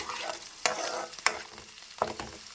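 Onions fry in a pan, a quiet steady sizzle broken by three sharp scraping stirs of a spoon, close and alone without speech.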